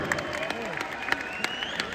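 An audience applauds, a short burst of scattered hand clapping with sharp individual claps over a background hum and a thin sustained tone, while a voice speaks at the same time.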